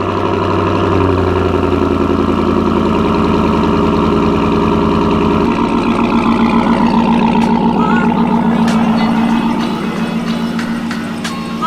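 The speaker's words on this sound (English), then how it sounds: "a cold start with our Corsa exhaust" A 2017 GMC Yukon Denali with a Corsa exhaust idles after a cold start on a cold, rainy day, a steady deep rumble throughout with a slight drop in level midway.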